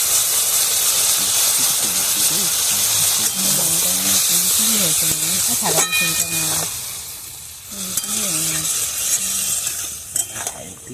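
Water from rinsing the mixer jar poured onto frying mustard, poppy seed, green chilli and ginger paste with flat beans in a pan, giving a loud steamy hiss and sizzle while a person talks over it.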